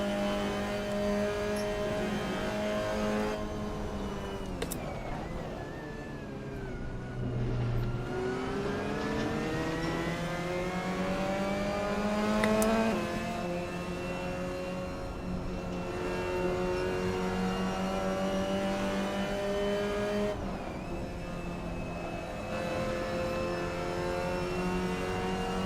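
Race car engine in a sim racing game, a GT car on track, revving continuously with rising and falling pitch through gear shifts and corners, steady and close with no talking.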